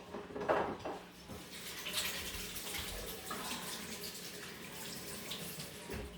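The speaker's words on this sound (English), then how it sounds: "Give our hands a little wash." Hands being washed under a running kitchen tap while making chicken quesadillas with chickpeas: a steady, close water splash and stream that lasts a few seconds, with light clatter around it and no talking.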